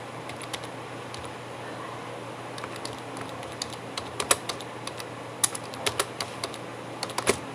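Computer keyboard typing while entering program code, scattered key clicks that start sparse and grow denser and louder toward the end, over a steady low room hum.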